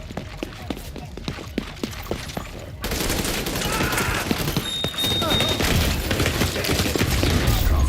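Sniper rifle fire in The Division 2, a burst of sharp cracking shots in the first few seconds, then dense continuous gunfire and battle noise filling the rest.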